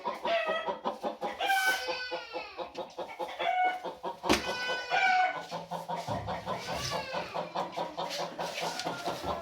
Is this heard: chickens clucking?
yes